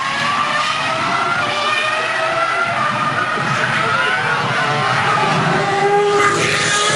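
Formula 1 race cars at the 2003 European Grand Prix, loud high-pitched engine whine rising and sweeping as cars pass, continuous over several seconds with commentary underneath.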